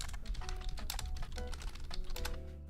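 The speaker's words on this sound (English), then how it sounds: "I love the typing sounds" Rapid keyboard typing from the video game The Roottrees are Dead clatters in quick irregular keystrokes, close and continuous, with no talk.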